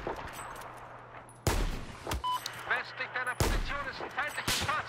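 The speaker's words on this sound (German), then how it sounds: "Von wo kam der Schuss denn?" Two sharp, loud gunshots from Battlefield 4 multiplayer ring out with echoing tails, while someone talks in between.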